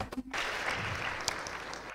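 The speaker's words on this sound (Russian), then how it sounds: "Аплодисменты." Applause from a lecture audience breaks out after a brief quiet moment and continues as a steady, dense clatter of many hands through the rest of the clip.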